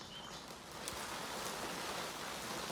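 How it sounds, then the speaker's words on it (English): Steady rain falling outdoors, a continuous even hiss of drops on surfaces that holds at a constant level throughout, with no voices over it. "And you can hear the rain here."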